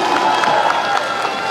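Festival audience applauding and cheering at the Solung festival in Yingkiong, a dense, steady wash of clapping and crowd noise that holds loud and close throughout.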